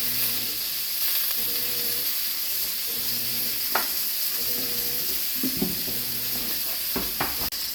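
Chopped onion browning in a pot for a pot roast, a steady close sizzle and hiss with a few soft scrapes and knocks of stirring scattered through, no voices.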